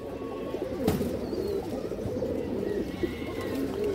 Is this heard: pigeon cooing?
yes